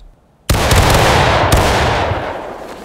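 A musket volley fired on command in the War of Rights video game erupts as one loud, sudden blast, followed by sustained rolling crackle and a second sharp report, close and dominant with no talk over it.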